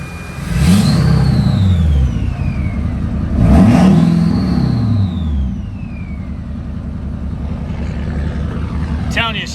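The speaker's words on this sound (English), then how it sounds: "I'm gonna rev her up a little bit for y'all." A 2011 Chevy Silverado 2500 HD with a big-turbo, head-studded 6.6 Duramax diesel and Allison transmission revs twice in deep surging bursts with turbo whistle, then settles into a rumbling idle, close and loud, with someone talking over it.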